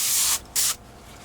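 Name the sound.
airbrush spraying Vallejo airbrush cleaner through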